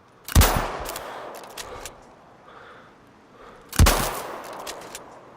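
Two loud suppressed-style rifle shots fire about three seconds apart, EMP rounds in Sniper Ghost Warrior Contracts, each a sharp crack followed by a short rolling tail and faint mechanical clicks between.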